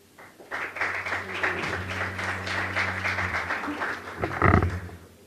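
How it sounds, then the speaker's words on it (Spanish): An audience at an international forum on electoral reforms claps to welcome a speaker, a steady burst of applause lasting several seconds with a louder surge near the end. "Recibamos con un aplauso"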